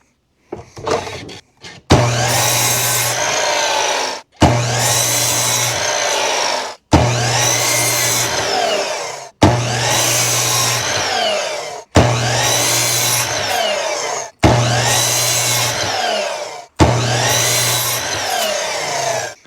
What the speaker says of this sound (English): I'm going to be using a miter saw to make it go a little bit faster